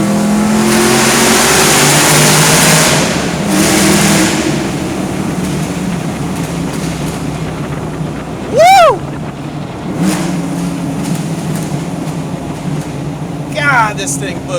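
A 1993 Ford Mustang Foxbody accelerates hard in second gear, its engine roaring loud and close with a rising pitch, a brief sharp squeal midway, then a sustained drone.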